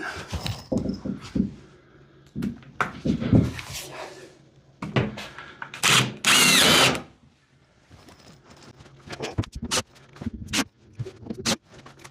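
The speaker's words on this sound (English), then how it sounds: "Let's put a screw in it." A power drill drives a screw into a drywall sheet on a closet build, giving short whirring bursts with one louder sustained run in the middle, mixed with scattered knocks and handling clatter, close by.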